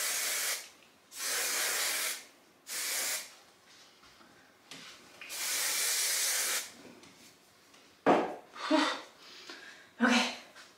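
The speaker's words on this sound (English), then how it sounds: "now we're gonna spray everything together" Hair spray misted over finished curls in several sharp hissing bursts of one to two seconds each, close and fairly loud, followed by a few brief rustling and clicking handling sounds.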